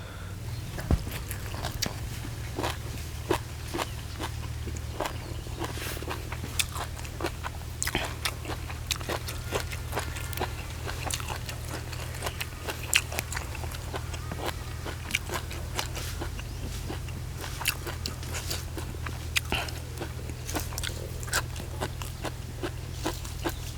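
Crunchy chewing of spicy beef tripe salad, repeated close-up bites and crisp crunches in a steady rhythm, loud against a low background hum, no talking.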